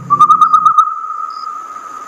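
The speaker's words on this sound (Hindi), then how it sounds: "एक काला उल्लू आकर गाब के पेड़ पर बैठा और अपनी डरावनी आवाज में बोल उठा" A single long, eerie hoot of a black owl in a horror cartoon, starting with a brief fluttering pulse then holding a steady, clear tone before fading, heard alone.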